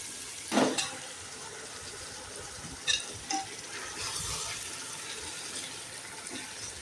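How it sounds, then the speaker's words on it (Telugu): Korameenu fish pieces going into a pan of tamarind pulusu with ginger-garlic paste, giving a brief sizzling splash and a couple of soft clinks of stirring, then a quiet simmer. "ఇప్పుడు చేపలు కూడా వేసేస్తున్నాము"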